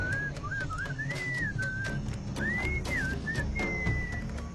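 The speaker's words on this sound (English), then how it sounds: "What is that enchanting whistling sound?" Enchanting melodic whistling from the video game Sam & Max: Beyond Time and Space, a wavering tune of gliding phrases with short pauses over a soft background, clear and alone.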